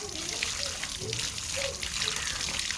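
Tap water running steadily while raw chicken is washed in a draining vessel for a traditional Kerala chicken fry, a continuous close hiss and splash with light clatter and no speech.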